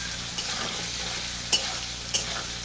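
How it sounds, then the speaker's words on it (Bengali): Amla pickle sizzles and fries in hot oil with salt, a steady close crackle with a few sharper stirring scrapes at intervals, no voices. "তেল আর নুন দিয়ে আমি ভালো করে ভেজে নেবো"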